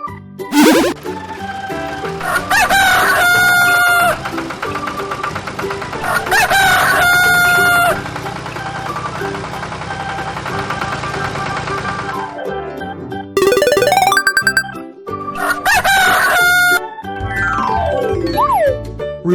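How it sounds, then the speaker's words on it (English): Rooster crowing in a farm animal sounds lesson, several loud drawn-out cock-a-doodle-doo calls repeated one after another with short gaps, plus some clucking. "Rooster."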